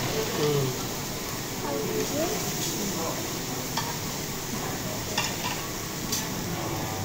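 Food being stirred with a spoon in a dish at dinner, a steady scraping and mixing noise with faint sizzle-like texture running throughout, a few brief clinks standing out.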